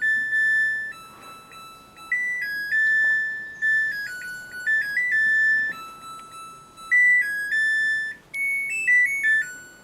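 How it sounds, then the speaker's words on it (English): A Samsung front-load washing machine plays its end-of-cycle melody after a rinse and spin cycle, a clear series of bright electronic tones stepping up and down in pitch for about ten seconds, close and alone. "now after this beep, we'll just open the door and get our laundry"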